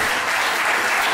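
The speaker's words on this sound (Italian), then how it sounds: "farei anche un applauso" Steady, dense audience applause at a football club presentation, loud and continuous throughout the short moment with no break.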